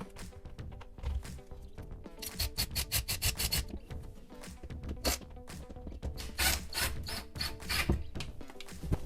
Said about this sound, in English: And let's screw it in. Let's start with that stud.